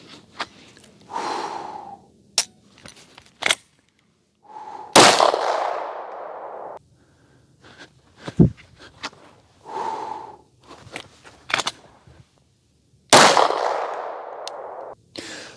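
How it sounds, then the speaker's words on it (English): A pistol slide is racked against a belt one-handed, giving sharp metallic clacks and clicks between bursts of heavy breathing and rustling movement, each sound close and separated by pauses. "rack it against the back of my belt, and the same thing will occur where the round will eject from the gun."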